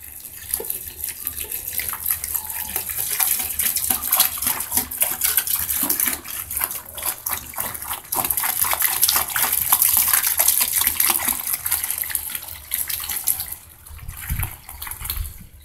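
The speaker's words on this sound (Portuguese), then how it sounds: "Agora eu acrescento mais 5 litros de água fria." Five litres of cold water poured into a container for homemade liquid basil soap, a steady loud gushing stream that runs continuously, splashing and churning throughout with no talk.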